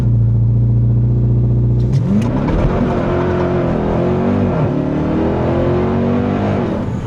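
A 2026 Dodge Durango Hellcat Jailbreak sits on launch control, its supercharged engine holding a loud, steady rev close by, then launching into a rising, roaring acceleration that climbs through several gear changes.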